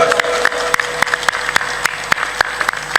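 Audience at a satsang clapping loudly and steadily, a dense wash of applause with sharp individual claps punctuating it throughout.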